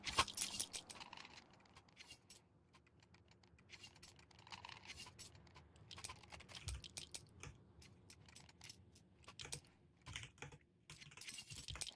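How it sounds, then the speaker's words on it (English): A new computer keyboard clatters under quick, irregular typing bursts with short pauses between them, close and fairly quiet, with no talking. "Hopefully my new keyboard isn't too loud"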